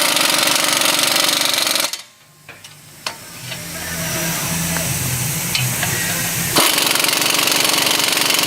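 Strut assembly bolts on a 2007 GMC Acadia are tightened, with loud, harsh rattling bursts at the start and end around a quieter stretch of scattered metallic clicks and a low steady rumble.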